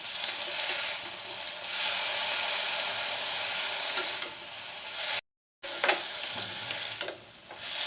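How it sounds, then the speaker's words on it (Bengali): Bottle gourd leaf paste sizzles and sputters while being stirred and sautéed uncovered in a pan over a gas flame, a steady close frying hiss with stirring scrapes and a brief dropout partway through. "এটাকে ঢাকবো না, এইভাবেই একটু সাঁতলে কমিয়ে নেব"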